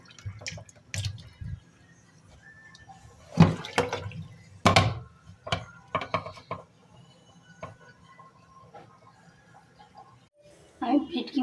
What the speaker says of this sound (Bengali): গরম জল দিয়ে আমি ওটাকে ভালো করে ধুয়ে নেব। ভালো করে ধুয়ে জলটা ঝরাবো।